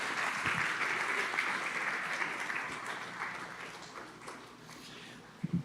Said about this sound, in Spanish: Dale un fuerte aplauso a estas generaciones